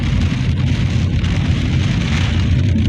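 Steady rain patters and drums on a car window, a dense continuous hiss of drops with no voices, on a side road at Paşa Yaylası.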